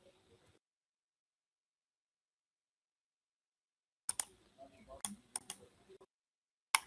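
Someone types on a computer keyboard while entering a rotation angle and then presses Enter, a short run of close, crisp key clicks ending in a firm single press, heard alone after a long silence.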